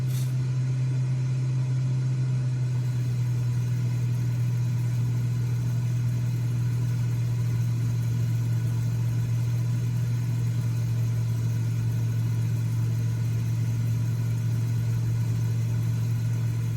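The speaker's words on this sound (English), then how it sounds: "It is quite a loud aircraft." The piston engine of a Cessna T206H drones steadily in a flight simulator video game, loud and unchanging, with a strong low hum throughout and no talk.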